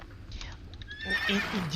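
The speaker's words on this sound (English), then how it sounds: "Wild horses." Wild horses in the video game Age of Empires II Definitive Edition let out a short neigh and whinny, rising and fading within a brief moment over faint background game sound.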